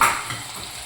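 Potatoes cooking in a kadhai for aloo palak, a brief soft sizzle with a faint scrape of stirring, close and steady with no voices.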